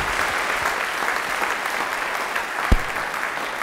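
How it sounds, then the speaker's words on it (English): An audience claps steadily in a dense, sustained round of applause, with one sharper thump near the end. "let's get one last round of applause"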